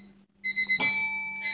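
A homeschool timer bell rings out indoors, a clear metallic chime that strikes sharply and then rings on with a long sustained tone after a brief quiet start, loud and near.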